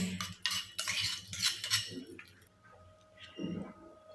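A spoon stirring tempering into coconut chutney in a bowl, quick clinking scrapes against the dish in bursts, then a softer wet stir near the end.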